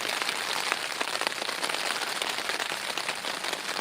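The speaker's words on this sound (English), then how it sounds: "it's still raining" Steady rain pours down at a campsite in Norfolk on a wet morning, a dense, even patter of drops on surfaces heard close with no voices.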